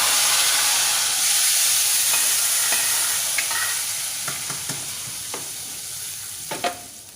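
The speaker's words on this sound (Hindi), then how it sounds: "साथ में भगार लगा दूँगी।" Tempering spices sizzle and crackle in hot oil for dahi vada: a steady, loud frying hiss with scattered pops and spits that slowly fade.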